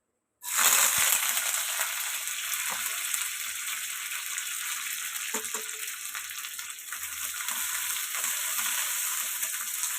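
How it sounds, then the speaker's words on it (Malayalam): Shallots and curry leaves fry in hot oil in a small pan, a loud, steady, close sizzle that bursts in abruptly and holds with faint crackles and pops throughout. "ഇത് നല്ല ഗോൾഡൻ ബ്രൗൺ ആവുന്ന വരെ ഒന്ന് ഫ്രൈ ചെയ്ത് എടുക്കണം."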